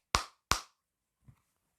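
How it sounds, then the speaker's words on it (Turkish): Two sharp hand claps in quick succession, loud and close, followed by a faint soft thump, with no talk; they mark the finish of a City Smash game session. "Alkış."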